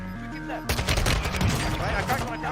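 Dense, overlapping gunfire in Warzone 2 erupts suddenly after a brief musical lead-in, loud rapid shots continuing in a busy cluster to the end.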